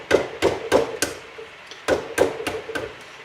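A chisel cuts into a wooden model boat keel with sharp, close knocks, about eight in all. They fall in two quick groups of four with a short pause between them.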